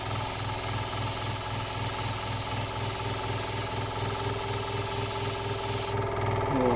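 An airbrush sprays Gravity paint onto a Tamiya Ferrari F310B 1/20 model car with a steady, loud hiss, while a rhythmic thumping compressor pulses underneath throughout, close up and with no talking.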